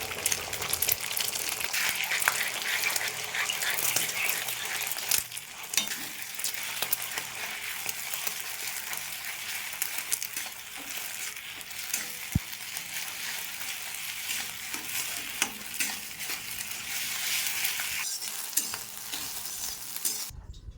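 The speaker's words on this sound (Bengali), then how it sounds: "লবণ আর গোলমরিচের গুঁড়ো দিয়ে ডিমটা ভালো করে ফেটিয়ে নেব। ডিম লাল লাল করে ভেজে তুলে নেব।" Beaten egg seasoned with salt and black pepper fries in a pan, producing a continuous, loud, crackling sizzle with occasional stirring scrapes and brief spits that carries on steadily for about twenty seconds.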